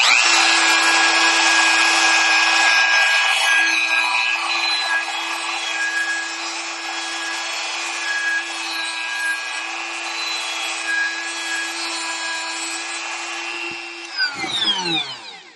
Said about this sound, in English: So I'm going to use a Dremel tool and go around it and just try to clean that up a little